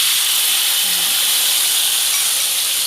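Blended spice paste hits hot oil in a pan, giving a loud, steady, close sizzling hiss that fills the whole stretch without pause.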